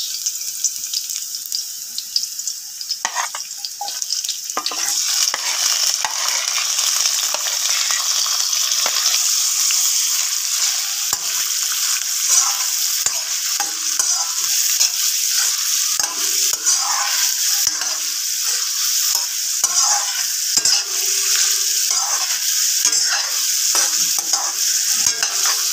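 Garlic and onions frying in a pan and being stirred, a loud continuous sizzle with scraping spatula strokes for the whole stretch, close and dense.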